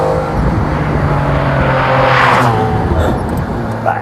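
A McLaren F1 road car engine running under way, a loud, steady mechanical roar with a brief rising swell as it passes through a shift, heard from inside the car.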